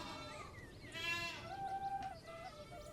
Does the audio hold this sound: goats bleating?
yes